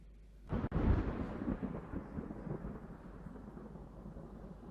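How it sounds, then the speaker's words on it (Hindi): A sharp crack of thunder bursts out, then rolls into a long, low rumble that slowly fades over several seconds. "जब बादल गरजता है और फिर जब लाइटनिंग होती है"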